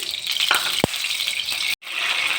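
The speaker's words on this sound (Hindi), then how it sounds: "चिकन को मैं डाल दूँगी सारा ऑयल के अंदर और अच्छे से चिकन को फ्राई करना है।" Chicken frying in hot oil in a wok, a steady close sizzle with a couple of sharp pops and a brief clatter.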